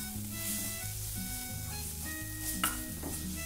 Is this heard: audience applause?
no